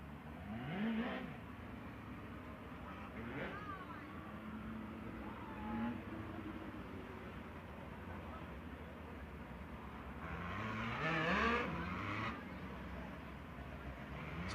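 Four-cylinder racing engines fitted with California mufflers at a USAC race in Placerville rise and fall in pitch as they pass at a distance, a low, faint, rumbling drone with a few louder revving sweeps.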